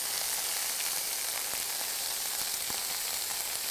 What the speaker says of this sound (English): Now you really wanna saute that onion and garlic together with the anchovies